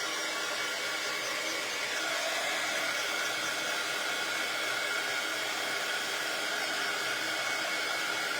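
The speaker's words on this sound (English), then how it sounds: "I'm going to dry this real quick." A hair dryer blows steadily and close by, a continuous broadband rushing whoosh with no pauses, no talk over it.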